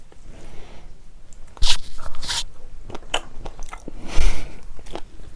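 Spicy carbonara fire noodles with Spam and Vienna sausages eaten close to the microphone, with several sharp crunchy bites and wet chewing and slurping in between, no talking.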